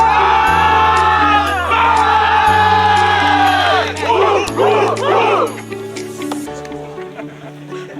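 At a corporate conference get-together, a team chants its slogan in unison, loud rhythmic group shouting over a steady musical backing with sustained bass notes, ending in a burst of cheers.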